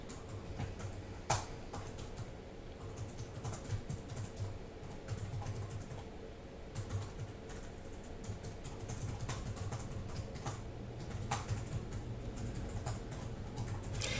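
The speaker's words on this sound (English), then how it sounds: "as Marty is typing" Fingers type on a computer keyboard, giving irregular faint clicks and taps over a quiet room hiss with no one speaking.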